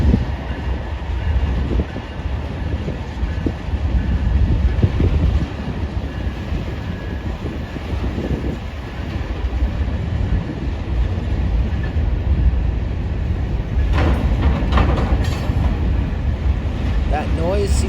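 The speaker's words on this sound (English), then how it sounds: "That noise you just heard, that loud bang, came from the last covered hopper." A CSX freight train on the Bayline Railroad rolls past with a loud, continuous rumble and clatter of wheels on track, wind buffeting the microphone, and sharp metallic clanks late on as a covered hopper car bangs.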